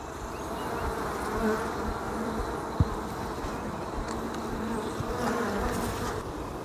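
Honeybees clustered on a hive frame give off a dense, steady buzzing hum, close and continuous, with small swells in loudness and no talk over it.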